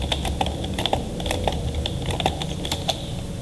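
Rapid, irregular keystrokes on a computer keyboard while entering a journal voucher in accounting software, crisp clicks close to the microphone with no voices.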